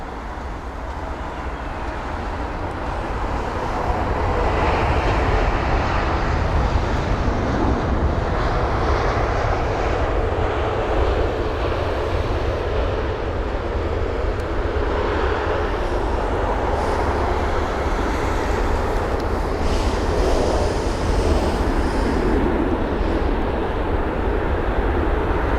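A four-year-old Airbus A320 comes in to land at London Heathrow, its engines making a broad, steady roar that swells slightly and holds loud and near throughout, with no voices.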